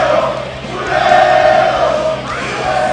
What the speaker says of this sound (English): I cannot tell you what they're chanting out there in the crowd.